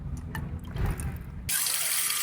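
Windshield washer fluid mix poured into a gallon container gives a brief, close gurgle, then settles into a steady bright rush of liquid filling the jug.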